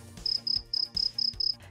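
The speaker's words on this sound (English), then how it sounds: "Crickets." A cricket sound effect chirps in six quick, evenly spaced bursts, each a shrill pulsing trill, loud and alone against a quiet background.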